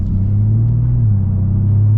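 A modified 1,000-horsepower Porsche 911 Turbo engine rumbles loudly and steadily from close inside, a deep droning tone that shifts slightly in pitch as it runs.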